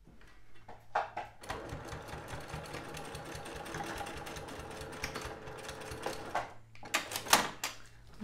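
A sewing machine stitches a zip onto a patchwork pouch, running in a steady rapid whir for several seconds, framed by brief handling clicks and taps at the start and end.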